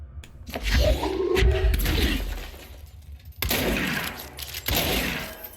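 Gunfire in the video game Control rings out in loud bursts, crashing and shattering, with a dense opening volley and two more clusters after a brief gap, heavy and close.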